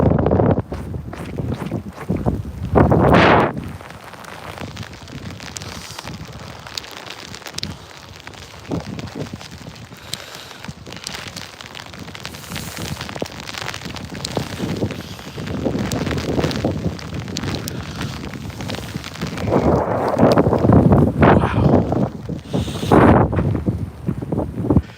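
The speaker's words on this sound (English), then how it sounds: "I'm getting pelted by big pellets of grapple. It feels like it's hailing outside." Wind-driven graupel pellets pelting down in a lake effect snow squall in Oswego, heard as a steady hiss and rush with heavy microphone wind buffeting that swells in strong gusts.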